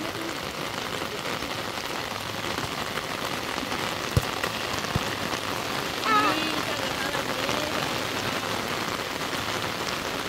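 Steady rain patters and hisses on a surface throughout, with a single sharp knock partway through and no one speaking.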